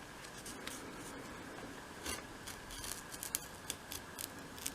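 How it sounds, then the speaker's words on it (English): A craft blade slices through material on a 1/12th scale shop project, giving a steady scraping rasp with a few sharp clicks and a distinct crack as it breaks through, close up, with no talking. "You almost sort of hear it crack when it goes through."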